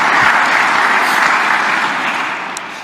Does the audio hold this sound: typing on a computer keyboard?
no